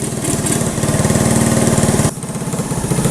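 The engine of an abandoned Honda three-wheeler left in a field chugs as it tries to start, giving a loud, rapid, uneven putter up close that sags and stumbles partway through before catching again.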